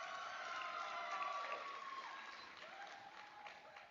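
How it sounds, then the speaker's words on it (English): An audience at an eighth-grade recognition ceremony claps steadily for several seconds, a broad wash of many hands with a few voices rising over it, fading slightly toward the end. "You can applaud for yourselves."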